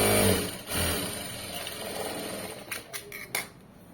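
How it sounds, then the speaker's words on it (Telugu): A sewing machine stitches fabric in a steady, close mechanical hum, with a few short clicking bursts near the end. "ఇప్పుడు ఇక్కడ అంతా కూడా నీట్గా స్టిచ్ చేసుకుంటూ వెళ్ళిపోవాలి"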